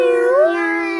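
A human voice imitates a cat with a single drawn-out meow that bends upward in pitch, close and fairly loud with nothing else around it.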